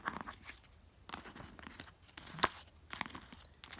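Playing cards from the Mint Julep horse racing card game are swept up and gathered off a table, making soft scraping shuffles and papery crinkles with one sharper slap, close and fairly quiet.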